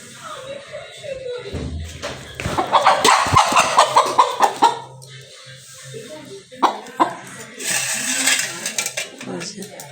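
A live black hen clucks and squawks in short bursts close to the microphone, mixed with a cough, clattering kitchen noises and background voices.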